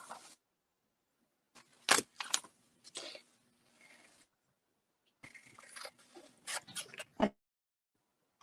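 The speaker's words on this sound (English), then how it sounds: "I'm cutting paper with my fabric scissors" Fabric scissors snip through paper close up: several crisp cuts in two clusters, separated by a few seconds of quiet.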